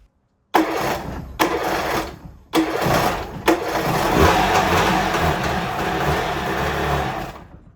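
A Kawasaki JS550sx jet ski's two-stroke engine cranks in a few short bursts, then catches and runs, a loud, raspy, steady buzz with throttle changes before cutting off.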